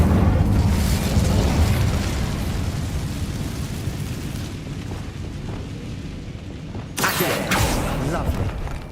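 Incendio fire spell cast in Hogwarts Legacy, a sustained loud roaring burst of flame and rumble that fades, then a fresh sharp blast near the end, with a voice speaking over it.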